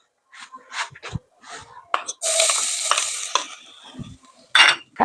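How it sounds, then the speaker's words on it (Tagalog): Peeled garlic hits hot cooking oil for pancit palabok, giving a short burst of sizzling and stirring amid soft clinks and brief breathy sounds. "So, ilalagay ko na yung bawang."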